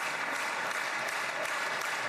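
Sustained audience applause for Netanyahu, Trump among those clapping, a dense, steady wash of many hands at a constant level with no talk over it.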